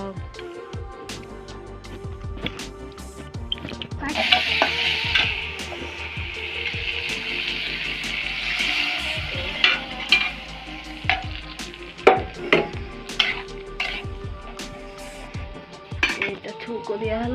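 Tempering spices sizzle in hot oil in a pan for a home-style Odia meal, a steady broad hiss swelling louder midway with repeated sharp clinks and scrapes of stirring, close and continuous with no talk.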